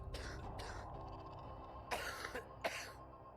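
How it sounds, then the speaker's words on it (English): A muffled cough rings out in a dark, stale room smelling of rust, followed by two sharper coughs near the end, each trailing a short echo off the walls over a low steady rumble. "Suddenly, a muffled cough came from somewhere nearby. The loud sound bounced off the walls in a brief echo."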